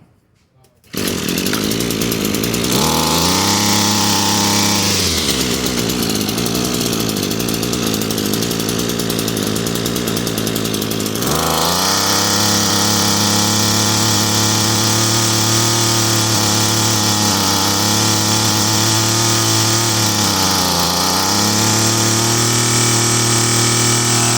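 An Echo SRM-225 string trimmer with a newly fitted carburetor fuel line kit is restarted and runs loudly and close, its engine pitch dipping and rising as the speed changes before it settles into a high, steady whine.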